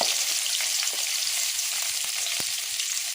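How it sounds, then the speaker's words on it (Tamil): Chopped onions hiss and crackle as they fry in hot oil with cardamom, a steady dense sizzle with small pops throughout, close and continuous. "நம்ம வெங்காயம் கட் பண்ணியிருக்கோம், அது ஆயிலில் ஆட் பண்ணிக்கலாம்."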